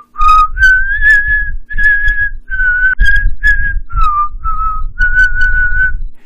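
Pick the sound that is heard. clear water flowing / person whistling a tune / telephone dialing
person whistling a tune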